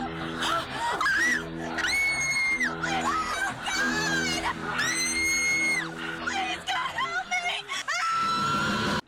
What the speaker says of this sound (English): her final scream dissolves and morphs into a screamo song once again